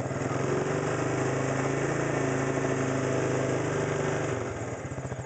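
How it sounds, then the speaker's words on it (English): An ATV quad engine idles with the choke set to warm up, a steady loud close rumble with a rhythmic low throb that dips slightly near the end. "will warm the engine up and get it going."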